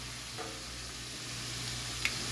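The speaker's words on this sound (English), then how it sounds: "start cooking my vegetables. And with the peppers, it'll give it a little bit more color, along with, I have the red onion" Peppers and red onion sizzle steadily in a pan, a faint, even frying hiss running throughout with a single small tap near the end.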